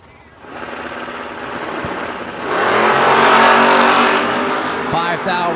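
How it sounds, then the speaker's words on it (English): A Camaro drag racing car making a pass at a drag strip, its engine rising from a steady drone into a louder, harsher roar as it accelerates, with an announcer talking over it. "And there goes the Camaro to a 663 elapsed time"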